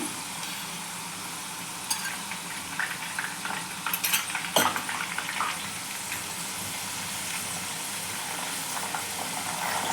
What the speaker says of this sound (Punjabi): ਨਮਕ ਵਾਲਾ ਪਾਣੀ ਇਹਦੇ ਵਿੱਚੋਂ ਛਣ ਛਣ ਦੀ ਆਵਾਜ਼ ਜਿਹੜੀ ਬਹੁਤ ਜ਼ਿਆਦਾ ਆਉਂਦੀ ਹੈ